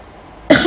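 A single abrupt cough bursts out loudly and close after a near-silent moment, from a person who is unwell.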